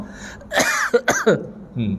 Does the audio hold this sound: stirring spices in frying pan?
no